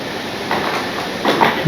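A model railway train starts running on its track after being connected up, a soft continuous rolling hum with light clicks and a couple of brief louder swells near the end, close by.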